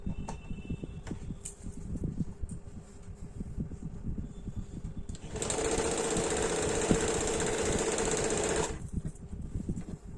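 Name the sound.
sewing machine stitching lace onto a kurti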